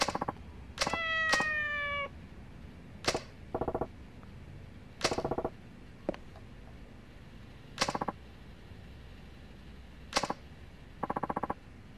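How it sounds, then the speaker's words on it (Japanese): Cat meowing in the video game Yakuza 4: a drawn-out meow near the start, then a series of short, clear meows spaced a few seconds apart, fairly quiet and heard alone without talk. "あ、猫いける。"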